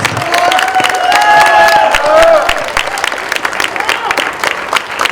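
Audience at an India championship awards ceremony applauds and cheers steadily, loud and sustained, with a few overlapping voices shouting and talking above the crowd.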